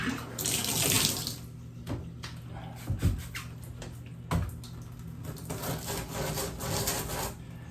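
Water runs from a faucet into a bathtub during cleaning, a steady close splash broken by scrubbing and knocking sounds, with no speech.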